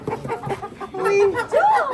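Hens clucking on a backyard plot with egg-laying chickens, several short clucks and a drawn-out rising call up close, with some voices murmuring in the background.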